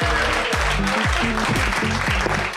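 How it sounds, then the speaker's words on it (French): A stand-up comedy club audience claps loudly and continuously while people whoop and cheer over the applause. "mesdames et messieurs, applaudissez pour Olivier Foy"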